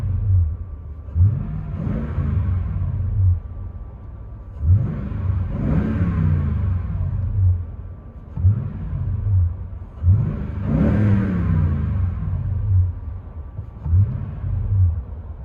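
A 2008 Toyota Sequoia SR5 with a 5.7L V8 and a Magnaflow dual-in, single-out exhaust revs about five times as heard from inside the cabin, each a deep rising roar that settles back to a low idle rumble.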